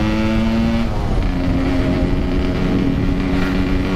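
A Yamaha R15 sport motorcycle roars on the road with a steady, loud engine drone and a falling then holding tone, riding close and alone with no talk.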